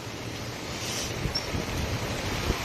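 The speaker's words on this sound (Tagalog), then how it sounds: "Nagsugas baha." Floodwater rushes across the Cebu Transcentral Highway in a steady, broadband roar mixed with wind buffeting the microphone, loud and continuous with no voices.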